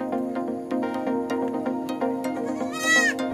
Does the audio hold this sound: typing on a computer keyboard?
no